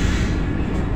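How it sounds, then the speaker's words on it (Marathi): A Vande Bharat express on the Mumbai–Pune run, heard from inside a coach: a steady low rumble and broadband roar of the moving train, constant and fairly loud with no talk. "आम्ही दादरला बसलो या वंदे भारत ट्रेनमध्ये, मुंबई सोलापूर वंदे भारत।"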